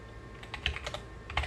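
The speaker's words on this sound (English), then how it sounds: "I'll type in" Quick bursts of typing on a computer keyboard, a few light clustered keystrokes close by and fairly quiet, with no talking over them.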